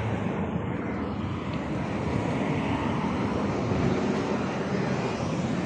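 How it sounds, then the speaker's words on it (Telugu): An airplane roars steadily over Kuwait International Airport at night, a broad continuous engine rumble with some wind noise and no talk. "విమానాలు అయితే ఇలా ఎగురుతూనే ఉంటాయి 24 గంటలు చూడండి."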